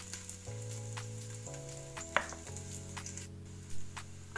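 Garlic sizzles gently in olive oil in a pot, a faint steady hiss sitting beneath soft background music, with one brief metallic clink partway through.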